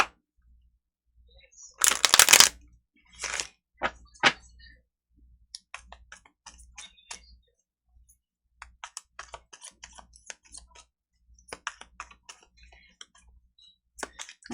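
Tarot cards are shuffled by hand in quiet, close riffling bursts and soft ticking taps, with scattered light clicks and long near-silent gaps between.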